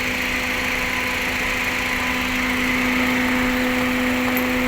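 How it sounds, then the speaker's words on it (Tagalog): A misfiring engine with worn piston rings idles in a workshop, giving off a steady, continuous mechanical drone with a constant hum. It runs alone, close and fairly loud, with no talk. "Papalag-palag ang makina mo"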